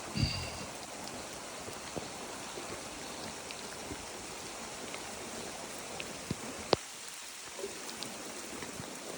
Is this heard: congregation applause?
no